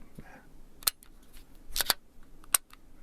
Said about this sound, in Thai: อย่ายิงแห้งแบบนี้บ่อยนะครับ